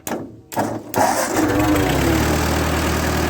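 A Ford 8N tractor engine starts with a couple of bursts, then settles into a steady, loud chugging idle up close, running continuously without voices.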